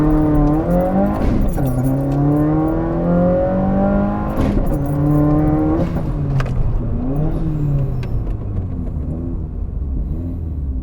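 A car fitted with a Tomei Expreme Ti exhaust and a catted Grimmspeed J-pipe accelerates hard through several gears, the rising engine drone breaking at each shift into a fresh climb, loud and heard from inside the cabin.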